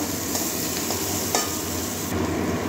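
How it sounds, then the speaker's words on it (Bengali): Steady, close sizzling of chopped onions frying in a hot pan until reddish-brown, a continuous crackling hiss with a few brief stirring clicks and no talking. "পেঁয়াজটা একটু লাল লাল করে ভেজে নেব"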